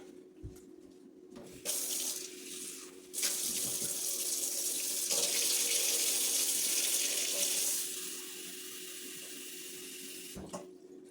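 Cold water runs steadily from a tap while making dough, a broad hiss that swells louder midway, then eases, with brief pauses at start and near the end.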